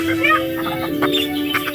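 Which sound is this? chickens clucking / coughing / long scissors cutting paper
chickens clucking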